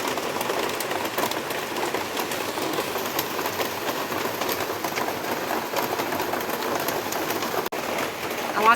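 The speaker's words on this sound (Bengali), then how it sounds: "জোর বৃষ্টি পড়ছে।" Heavy rain falls steadily around city apartment buildings, heard from a balcony as a continuous, dense hiss that stays even throughout.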